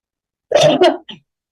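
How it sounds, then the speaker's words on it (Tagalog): One person with a dry throat gives a short, harsh cough burst made of two quick pulses and a fainter third, close and loud against silence. "So, ako po ay inuubo. Nag-dry ang aking throat."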